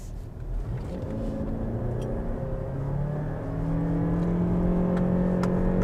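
A Lexus RX 450h+ plug-in hybrid accelerating hard in sport mode, its engine and motor note rising steadily in pitch and building louder over several seconds, muted and smooth with no talking.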